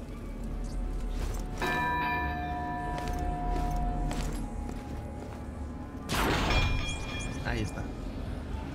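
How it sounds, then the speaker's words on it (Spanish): A bell rings in the Castlevania Lords of Shadow video game, its sustained metallic tones ringing out over dense game music and background rumble, with a second louder strike later. "O simplemente le doy la campana y ya está."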